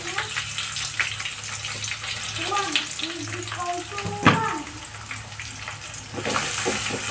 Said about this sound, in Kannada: ಶೇಂಗಾಕಾಳು ಫ್ರೈ ಆಗಿದ್ದಾವೆ